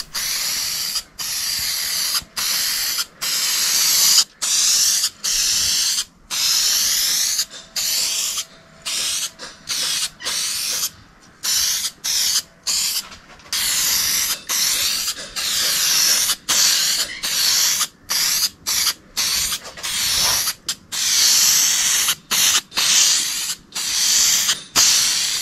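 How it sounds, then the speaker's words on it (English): An aerosol can of filler primer sprays onto bare-metal parts of a Suzuki A100 motorcycle during a rebuild, hissing close and loud in many short bursts separated by brief pauses. "And the spray filler is very forgiving"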